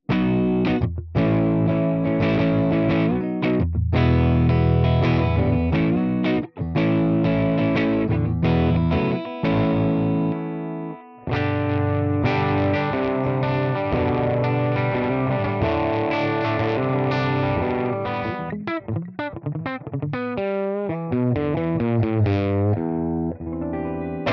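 Electric guitar played through a Tonex One Gibson G40 amp model set warm with an edge and no reverb, giving a mild breakup tone; strummed chords and single notes ring out loud and steady, with brief pauses between phrases.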